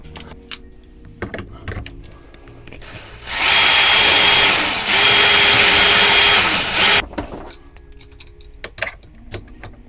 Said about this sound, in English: So what I'm going to do is just drill out the wood right there so it'll slide through.